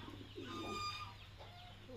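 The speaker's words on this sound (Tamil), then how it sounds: "புறாக்கெல்லாம் அப்படியே ஒன்று ஒன்றா ரெண்டு ரெண்டாக இறங்கி வருது ஜோடி ஜோடியாக." Pigeons cooing as they come down in pairs to feed at a goat shed: soft, low rounded coos close by over a steady hum, with a few faint higher bird chirps mixed in.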